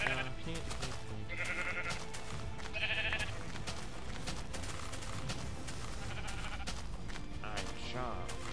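Sheep bleating in the video game Minecraft, a few short wavering bleats over dense, loud game sound and music with a person talking throughout.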